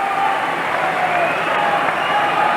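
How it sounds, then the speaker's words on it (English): A hockey arena crowd at the 1980 Olympic Finland versus Canada game roars in a steady, dense wash of noise, loud and continuous throughout. "That's why the crowd is roaring."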